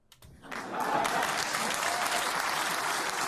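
Audience applause at a comedy show swells quickly and holds as a steady, dense wash of clapping throughout, fairly loud and continuous with no speech over it.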